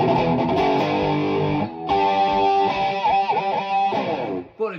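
An electric guitar with distortion plays a riff in its original form, loud galloping chugs and bending phrases close up, with a brief pause partway through.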